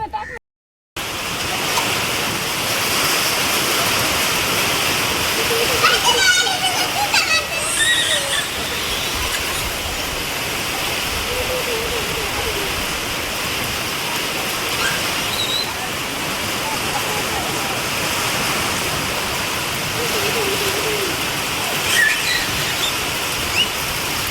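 Steady, even hiss of rain fills the whole stretch, constant and close, with a few faint scattered clatters and distant sounds over it.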